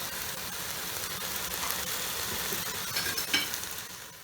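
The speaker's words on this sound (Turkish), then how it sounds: "Etler şu şekilde mühürlenmeye devam ediyor." Quiet, steady sizzling and crackling of bone-in meat searing in hot butter in a pressure cooker, with faint stirring scrapes near the end and no voices.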